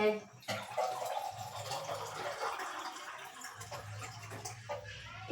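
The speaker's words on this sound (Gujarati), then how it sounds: "હવે આપણે આમાં પાણી એડ કરીશું" Water is poured steadily into a pot of masala khichdi, a continuous splashing pour that fades out.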